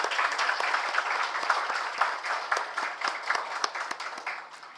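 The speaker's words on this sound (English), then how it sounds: "Let's start this beautiful morning with a huge round of applause" Clapping from an audience at a stock exchange listing ceremony for a pharmaceutical company, a lively round of many hands that stays steady and thins slightly toward the end.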